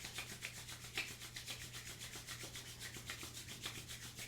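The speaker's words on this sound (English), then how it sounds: "We're going to start to rub our hands together really fast, building some heat in the hands." Palms rub together quickly and steadily in a yoga wind-down, a dry brushing swish repeating about twice per second, close and fairly quiet with no talking.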